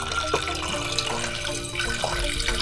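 Tap water runs steadily into a normal cooking pot being filled for morning tea in an Airstream RV kitchen, a continuous close splashing stream.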